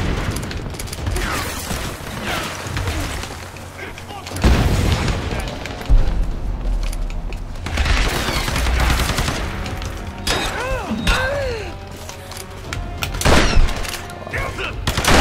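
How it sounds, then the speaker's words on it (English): Shotgun blasts from incendiary rounds in the Tomb Raider video game, several heavy booming shots spread across the stretch amid game effects and some faint speech. "Start using shotgun ammo. Incendiary shotgun rounds?"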